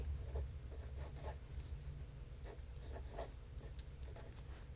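Pen strokes of hand lettering on paper, soft scratchy bursts repeating at a steady pace, faint and close against a low background hum.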